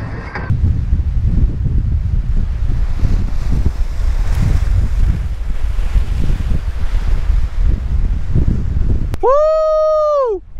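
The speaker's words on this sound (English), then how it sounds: "30 mile an hour wind." A strong 30 mph wind on Galveston Bay roars steadily into the microphone as a loud, continuous buffeting rush, ending with a brief electronic tone.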